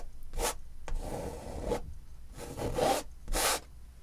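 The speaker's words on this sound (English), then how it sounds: "I want to scrape it away as hard as I can. You can hear it. I'm really scraping it." A blade scraping oil paint off a canvas in short, hard, rasping strokes, about half a dozen in quick succession, close and loud, with brief pauses between them.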